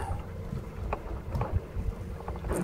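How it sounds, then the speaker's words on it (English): A small electric outboard motor run off a regular battery pushes a fishing boat across the cold Baltic Sea off Helsinki, giving a steady low drone under wind buffeting and water noise, close to the microphone. "I've mounted this electric outboard motor powered by a regular battery."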